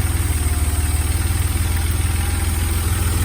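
A 1989 Porsche 911 flat-six idles on a cold start, a steady rhythmic low throb with a faint light ticking of valve noise layered on top, close and continuous with no talking.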